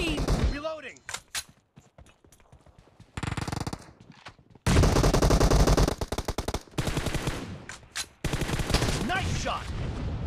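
Automatic gunfire rattles in a team deathmatch video game, with long loud bursts of rapid shots and single cracks layered over each other, while a voice speaks briefly between the volleys.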